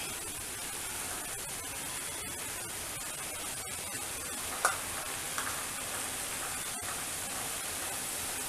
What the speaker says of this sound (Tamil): கிரேவி நல்லா கொதிக்கட்டும்.